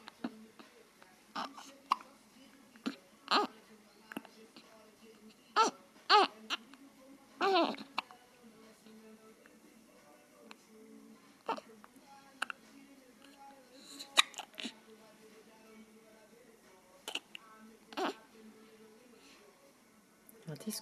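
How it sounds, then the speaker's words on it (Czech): A month-old baby boy hiccups repeatedly, short sharp catches spaced irregularly across a quiet room, with soft infant vocal sounds and an adult voice speaking in between. "Škytka nás trápí."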